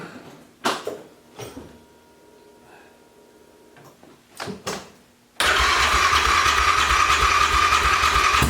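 A snowmobile engine is started: a few cranking pulls and brief sputters after a quiet stretch, then it catches and settles into a loud, steady idle roar that continues to the end, very close.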